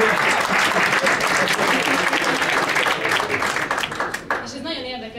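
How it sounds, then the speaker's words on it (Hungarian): Audience in a hall applauds loudly for a father seated in the second row, dense steady clapping filling the room before tapering off near the end, with a voice coming in at the close. "egy nagy tapsot szeretnénk neki kérni"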